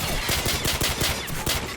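Rapid automatic gunfire in Call of Duty Modern Warfare, a dense close burst of evenly spaced shots lasting under two seconds.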